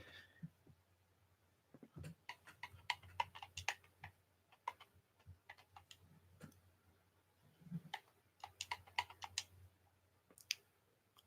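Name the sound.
typing on a computer keyboard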